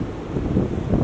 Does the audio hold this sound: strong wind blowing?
yes